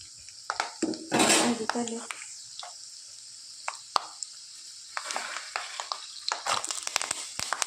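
Peanuts and mustard seeds roast in a hot pan for spicy Kolhapuri chivda, with metal utensil scrapes and stirring clatter, soft crackles and a burst of sizzle near the start, intermittent and close.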